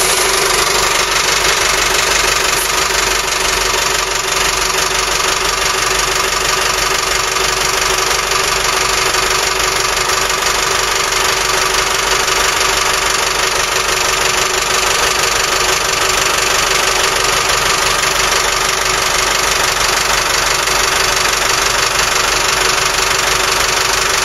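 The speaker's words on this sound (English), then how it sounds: "So let's start the engine up and try it out." A Volvo KAD32 marine diesel engine on a boat idles steadily and loudly up close, a constant droning rumble with a faint knocking edge and no pauses throughout.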